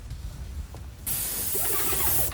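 An airless paint sprayer bursts on with a loud, steady hiss of spraying paint that starts partway through and holds to the end, after a quieter low rumble.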